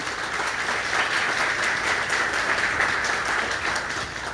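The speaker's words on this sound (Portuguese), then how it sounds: "uma salva de palmas aí para Sabrina" An audience gives a warm round of applause at a testimonial gathering, with dense, steady clapping from many hands throughout, moderately loud and unbroken by speech.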